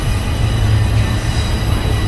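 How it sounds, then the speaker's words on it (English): A train rolls by close at hand, a loud, steady rumbling roar with a constant low drone and no voices. "We will always have trains."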